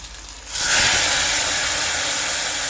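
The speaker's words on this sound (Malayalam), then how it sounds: "നമുക്കിനി ഇതിലേക്ക് കടുക് വറുത്തത് ഇട്ട് കൊടുക്കാം" Fried mustard seed tempering is tipped into a coconut curry in a clay pot, setting off a sudden loud hiss that holds as a steady, bright sizzle until the end.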